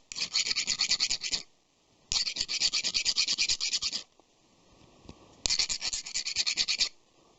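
Three bursts of a hand file rasping across the sharp edges of hardened 35NCD16 steel, each a run of quick, close strokes lasting a second or two, separated by quiet pauses.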